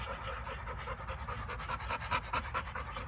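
American Staffordshire bully dogs pant quickly and rhythmically during breeding, a close, soft, steady panting with faint breathy whimpers.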